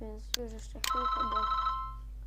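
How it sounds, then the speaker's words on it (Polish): A telephone rings with bright, repeated electronic tones, heard alongside and after a person speaking close by. "sorry za ten telefon"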